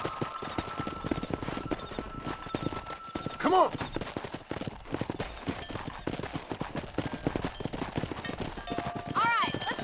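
Hoofbeats of a horse galloping in Red Dead Redemption, a steady clip-clop rhythm running throughout alongside game music and ambience, with a brief whinny; someone speaks briefly over it.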